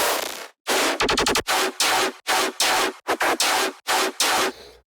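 Layered dubstep bass chugs with the sub removed, a loud wall of bright, crunchy synth stabs in a choppy stop-start rhythm, including a fast stuttered burst, separated by short silent gaps.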